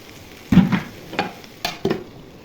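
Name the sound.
frying bean, potato and carrot bhaji with coriander leaves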